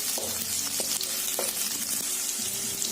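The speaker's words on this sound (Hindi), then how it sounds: "और अब हम इसमें लहसुन और अदरक डाल देंगे। और इसे अच्छे से हम भून लेंगे।" Garlic and ginger frying with cabbage in a hot pan, a loud, dense sizzle with a few quick stirring knocks and scrapes over the top, close and uninterrupted, no talking.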